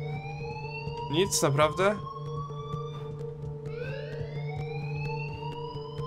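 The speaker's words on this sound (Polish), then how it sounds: "U dyrektora powinien być jakiś przycisk do wyłączenia alarmu." An alarm rings continuously at Blackwell school in Life Is Strange as a steady electronic tone under the other sounds, while a person speaks briefly over it.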